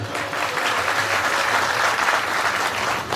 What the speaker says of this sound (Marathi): सर्वांनी एकदा जोरदार टाळी वाजवायची